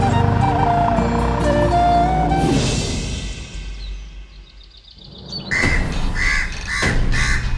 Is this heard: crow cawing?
yes